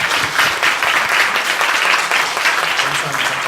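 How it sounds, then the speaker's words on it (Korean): A church congregation applauding to welcome their senior pastor back after three months of surgery and treatment: dense, continuous applause from many people, loud and close throughout. "우리 모두를 박수로 환영하겠습니다."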